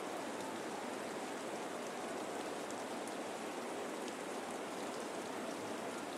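Steady rain pours over a baseball game in a calm, even wash of soft hiss, unbroken and moderately quiet, with no voices over it.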